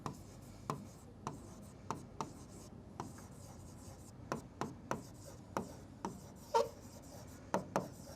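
Marker or chalk writing on a board in a maths class, heard as a series of short, sharp taps and scratchy strokes at irregular intervals, fairly close and alone without talk.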